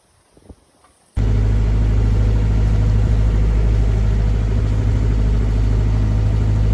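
A sailboat's engine runs steadily while motor sailing at night, a loud continuous low rumbling drone that starts abruptly after a quiet second and holds unchanged throughout.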